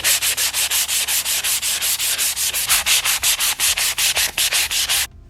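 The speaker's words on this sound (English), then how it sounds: "we're going to have to sand again with our 220 grit sandpaper" Wood boards hand-sanded with 220 grit sandpaper, a loud close rasping scrub in quick, even back-and-forth strokes, about five per second, stopping just before the end.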